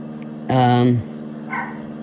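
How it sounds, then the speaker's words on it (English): A dog gives one loud, close bark, followed by a fainter yip a moment later, inside a home with a door left open to look out of. "This is what happens when you leave doors open for them to look out of. They bark."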